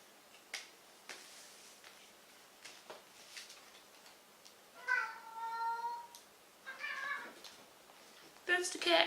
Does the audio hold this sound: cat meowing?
yes